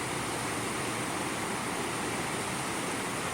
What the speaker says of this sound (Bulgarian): планински водопад